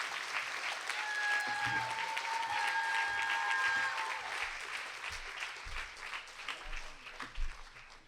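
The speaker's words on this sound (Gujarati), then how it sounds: "આપણે તાળીઓના ગડગડાટથી એમ અહીં પધાર્યા એ બદલ એમને આભાર માની છે" An audience at a morning sabha gathering claps in thanks to a guest, dense steady applause that gradually thins out toward the end.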